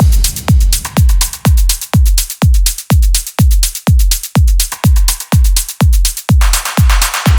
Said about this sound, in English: So the drums on their own sound like this.